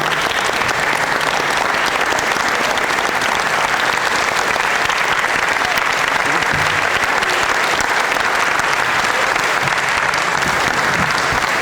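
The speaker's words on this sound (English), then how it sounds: "Let's give them all a round of applause." A large audience applauds at a 2023 Memphis mayoral candidate forum, producing loud, continuous clapping from many hands that stays steady for over ten seconds without any break.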